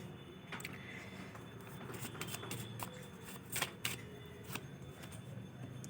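A deck of tarot cards is shuffled in the hands, giving soft riffling flutters and quick card snaps, close but faint, with a few sharper flicks near the middle and no talking.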